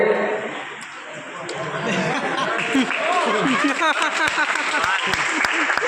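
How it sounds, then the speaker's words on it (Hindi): Audience at a college cleanliness-campaign event bursts into loud, sustained applause to welcome a guest, dense clapping building and continuing with chatter and scattered laughter mixed in. "जोरदार तालियों से स्वागत करें"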